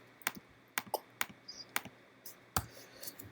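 Keyboard typing of a short name on a computer, a handful of sharp, separate keystrokes spaced out with small gaps, close and fairly quiet with no talk.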